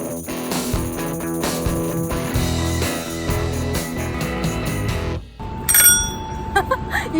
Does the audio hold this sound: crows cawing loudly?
no